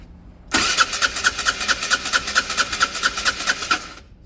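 A Peugeot Satelis 125cc scooter being cranked by its starter motor after its ECU was refitted, a loud close rhythmic whirring churn of about fourteen even pulses lasting several seconds, then cutting off without the engine catching.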